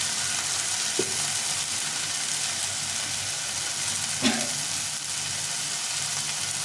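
A cumin and ginger paste with salt, turmeric and chili powder fries in a pan as fish is cooked with bitter gourd and potato, giving a steady, loud sizzle with a couple of brief stirring clinks and no voices.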